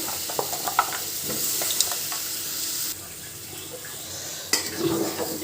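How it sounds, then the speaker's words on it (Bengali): Potatoes and pointed gourd sautéing in a pan, a soft steady sizzle with scattered clinks and scrapes of stirring, fairly quiet and without talk. "দিয়ে দিচ্ছি আলু পটল, একসাথে সব কষিয়ে নেব সুন্দর করে।"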